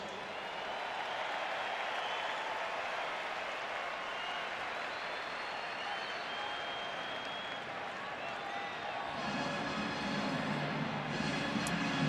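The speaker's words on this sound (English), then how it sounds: "Let's give our national champions one more round of applause." Stadium crowd at an NFL game applauding national champions, a broad continuous wash of clapping and crowd noise held at an even level, with a voice audible near the end.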